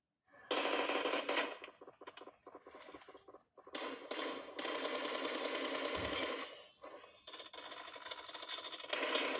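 Rapid automatic gunfire in a video game, bursts of dense rattling shots separated by brief pauses, loud and close, repeating across the whole stretch.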